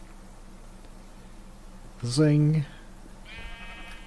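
A single loud Minecraft sheep bleat, a short wavering nasal cry, follows a quiet stretch of game ambience, with a brief spoken word from a player nearby.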